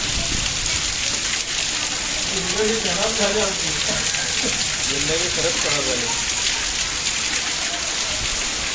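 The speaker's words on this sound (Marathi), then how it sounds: "पाऊस बघा तुम्ही इकडे किती आहे" Heavy May rain in Ratnagiri pours down in a constant dense hiss, with someone speaking over it for a few seconds midway.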